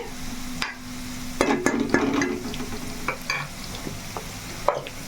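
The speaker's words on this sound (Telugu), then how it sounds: "నేను ఉల్లిపాయ చూసారా ఎంత బాగా బ్రౌన్ కలర్లో వచ్చేసిందో చక్కగా వేగిపోయింది" Onions fry until brown in a pan with a soft continuous sizzle, broken by a few scrapes and taps of a stirring spoon against the metal, close by.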